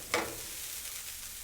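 Garlic and red pepper flakes sizzle softly in a pan, a brief crackle at the start settling into a steady, faint frying hiss.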